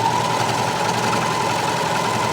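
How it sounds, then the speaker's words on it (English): A serger sewing machine runs close up with a loud, steady mechanical whir, a continuous fast vibrating drone with a constant tone and no pauses. "This is how loud my serger is."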